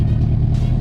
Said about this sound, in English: Rev it. Oh yeah. Like, give it some gas.